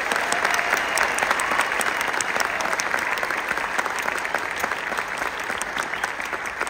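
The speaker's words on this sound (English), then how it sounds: "Give her another round of applause." An audience at a state honor band concert gives a bassoonist a round of applause, a dense, even wash of clapping from many hands that holds steady for nearly seven seconds.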